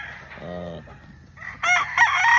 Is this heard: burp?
no